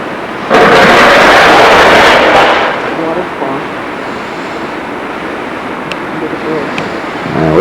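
A waterfall in Austria rushing beneath a bridge, a loud, steady broadband roar of falling water that starts abruptly, heard up close and continuous throughout, with no talking.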